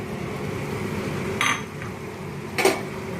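Prawns tipped into a pan of simmering bottle gourd, giving two sharp clinks of metal on the pan over a steady bubbling background, with no talking.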